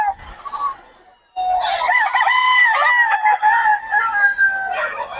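Young stag roosters on a farm crow loudly and close by, with a short cluck before a long, drawn-out cock-a-doodle-doo that fills most of the clip.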